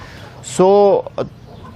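An Aseel chicken gives a short, loud squawking cluck, then a couple of quieter clucks, close by, over low background noise.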